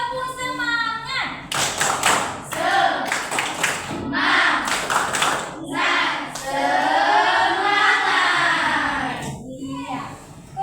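A class of children does a rhythmic spirit clap, with bursts of patterned hand clapping and thumps mixed with loud group chanting and a voice leading them.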